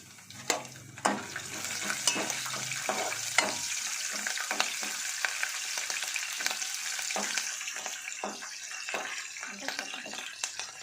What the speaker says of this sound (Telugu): ఇవి వేడైన తర్వాత ఇందులో మనం కట్ చేసి పెట్టుకున్నటువంటి ఉల్లిగడ్డ ఉంది కదా, కరివేపాకు, అది బీరకాయలు, పచ్చిమిరపకాయలు వేస్తున్నాం.